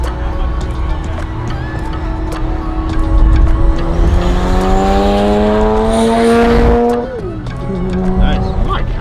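A car engine revs hard, its pitch climbing steadily and loudly before dropping off, then building again.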